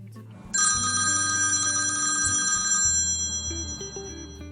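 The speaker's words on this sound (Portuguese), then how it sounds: "até que o telefone tocou" A telephone rings on a quiet Sunday morning at home, its bright electronic trill starting abruptly and repeating steadily in a clear, moderately loud pattern, fading slightly at the end.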